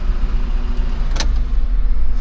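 A car idles at a fuel station before being switched off, a steady low engine rumble with a brief sharp click or clunk near the middle.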